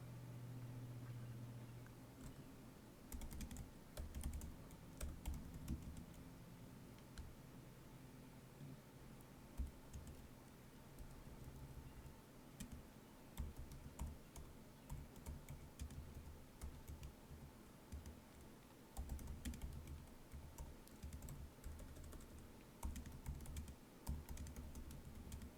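Typing in all caps on a computer keyboard, bursts of quick, close key clatter separated by pauses, with no voices over it.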